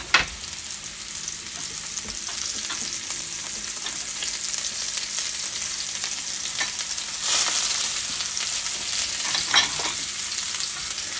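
Mushrooms sizzle and fry in about three tablespoons of olive oil, with a steady close crackle broken by occasional stirring scrapes and a louder burst of sizzle partway through; no one speaks.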